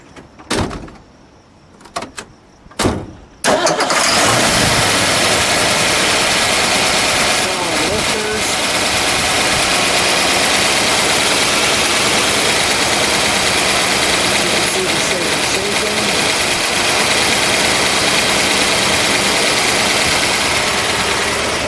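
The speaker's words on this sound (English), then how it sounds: "Just listen to it idle for a second." A few clunks and a door sound, then the V8 of a 1970 Ford Mustang Boss 302 starts and settles into a loud, steady, rumbling idle that continues throughout.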